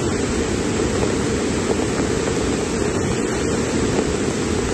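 A raging stream swollen by heavy rain floods a riverside facility, a loud, constant, deep roar of rushing water close by, with no voices.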